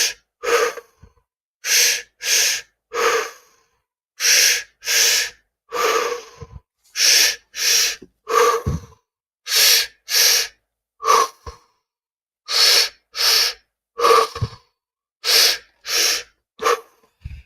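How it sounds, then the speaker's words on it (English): Deep, rhythmic breathing during a guided meditation: about twenty quick, forceful breaths, close and loud, in a steady rapid pattern with brief pauses, and no talking. "Just keep breathing."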